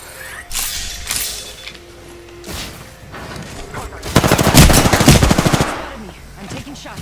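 Rapid machine-gun bursts and scattered gunshots from a battle royale video game, with a dense, loud volley in the second half over quieter earlier shots and low game ambience.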